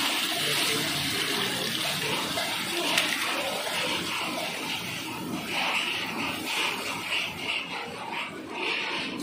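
Water poured steadily into a cooking pot, a continuous splashing rush at moderate level running throughout, close by, with no talking.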